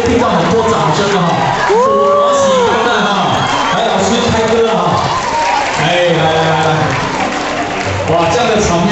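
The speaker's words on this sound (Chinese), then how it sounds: "你就会听到很多掌声的哈" A wedding crowd fills the air with loud, dense applause and cheering that carries on for the whole stretch, with whoops and a voice calling out over the clapping.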